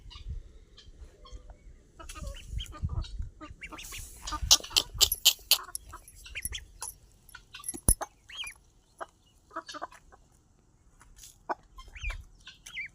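Hungry ducks call for food, loud quacks and squawks in irregular bursts near the listener, with scattered shuffling and other farmyard noises between calls.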